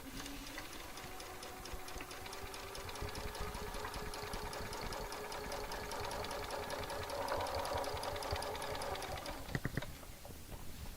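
A sewing machine runs steadily, stitching through a quilt with a fast, even mechanical whir and needle clatter for about nine seconds, then stops with a few clicks.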